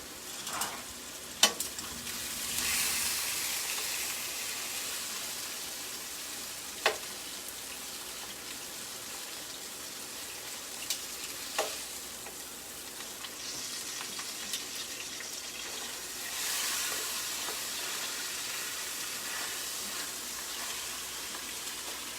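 Premade gnocchi sears in a frying pan with a steady, moderately loud sizzle, broken by a few sharp clicks and scrapes as the pieces are stirred; no one speaks.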